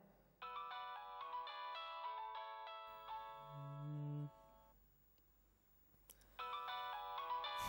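A mobile phone ringtone plays a bright electronic melody in repeated phrases, breaking off into a pause with a lower tone, then starting up again near the end, clear and alone with no voices.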